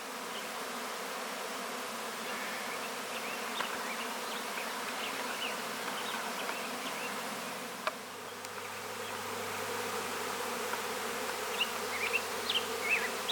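Honey bees pouring out of the hive as they get ready to swarm, a dense continuous buzzing drone filling the air, steady and fairly faint, with no voices.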